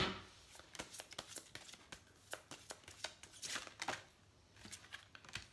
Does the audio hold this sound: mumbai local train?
no